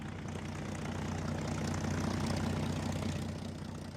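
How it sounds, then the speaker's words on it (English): US Wildcat fighters and Dauntless dive bombers fly in during World War II, a steady, dense propeller-engine drone that holds at an even loudness throughout, with no voices. "Two weeks later, a group of US Wildcat fighters and Dauntless dive bombers"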